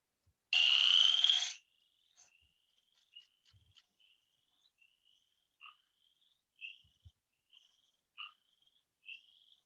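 A chorus frog from Ontario gives a rough, rising trill near the start, followed by a string of short, faint, high chirping calls spaced out over quiet background.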